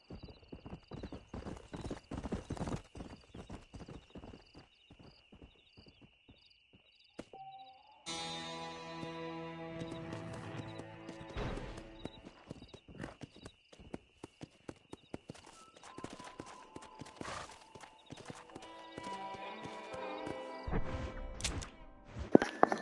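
Steady clip-clop of a stallion's hooves on hard ground in an irregular walking rhythm, with a whinny partway through and occasional thunks, in the video game Red Dead Redemption.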